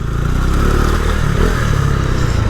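A Benelli 600i inline-four motorcycle engine runs steadily nearby, a loud, dense rumble with a rough mechanical clatter and no pauses.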